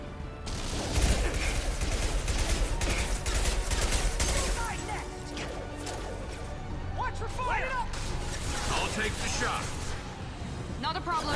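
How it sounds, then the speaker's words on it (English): Rockets and weapons fire in a Mass Effect 2 battle, a dense, continuous barrage of blasts and crackling impacts, with voices talking over the combat. "Stupid fire rockets!"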